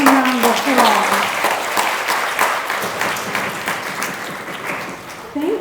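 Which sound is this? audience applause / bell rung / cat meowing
audience applause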